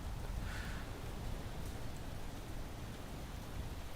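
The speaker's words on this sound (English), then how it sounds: "I only just turned this rain on." Steady rain in a video game, a dense continuous hiss of falling drops filling the whole clip at moderate, even loudness with no voices.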